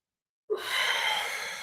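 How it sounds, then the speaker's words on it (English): Breath during a stretching workout at an outdoor retreat in Joshua Tree: one long, steady breath starting abruptly after silence, airy and sustained to the end, close and clear with no talk. "I'm breathing into it."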